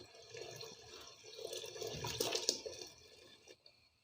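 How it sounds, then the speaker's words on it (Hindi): Milk poured into a pot of boiling kheer, a soft, steady liquid pouring and bubbling sound that swells in the middle and fades out, with no talking. "तो अभी दूध भी हम डालते हैं, साथ ही दूध भी डालते हैं साथ।"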